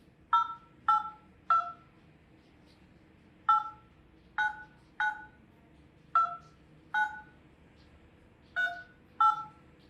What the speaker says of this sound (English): I'm gonna phone Delano.